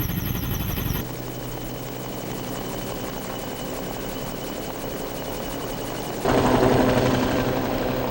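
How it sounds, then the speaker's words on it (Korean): A helicopter flies a search over the area around a bat hibernation site, its steady rapid rotor chop loud and continuous throughout, shifting in tone partway through, with no voices. "제작진은 헬기를 동원해 동면지를 중심으로 반경 2km 이내를 샅샅이 찾아보기로"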